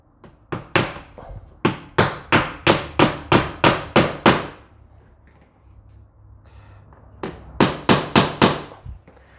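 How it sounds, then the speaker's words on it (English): Hammer nailing off a vinyl replacement window stop, a loud close series of about a dozen sharp, evenly spaced blows, a short pause, then another quicker burst of strikes. "So now I'm just gonna finish nailing off this window stop."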